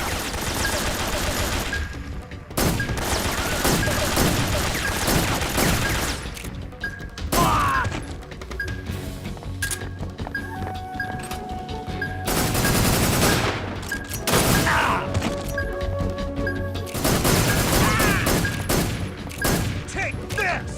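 Rapid bursts of suppressed gunfire in a video game, clattering volleys repeating in clusters with short pauses between, mixed with impacts and occasional thuds, a voice speaking intermittently among the shots.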